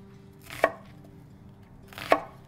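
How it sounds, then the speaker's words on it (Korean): Two separate, crisp knife chops cut an onion into large chunks on a board, each a sharp close thunk about one and a half seconds apart, with quiet between. "양파는 그냥 숭덩숭덩 큼직큼직하게 썰어주시면 됩니다."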